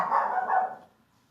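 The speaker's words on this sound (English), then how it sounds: "My dog." A dog barks close by, one loud, full bark stretched over most of a second and then fading to quiet, with no voices.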